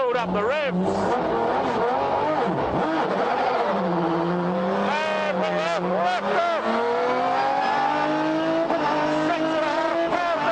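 Loud, close revving from a Lister Storm V12 race car as the engine climbs and drops through sweeping pitch changes, sustained and dominant throughout.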